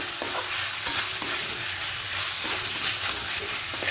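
Chicken stir-fried in a pan with tomato and sugar, for coriander chicken, gives a steady loud sizzle with a few light scraping stirs, and no voices.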